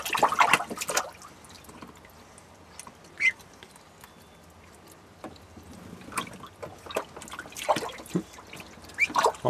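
Water from a hose splashes and patters onto the ground in uneven bursts, with a louder spray at the start and intermittent splashing throughout.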